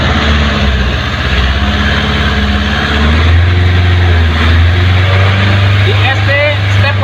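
An idling car engine rises into a steady low rev as the accelerator is pressed during a sensor and actuator check, the hum strengthening midway and holding, with a person talking over it.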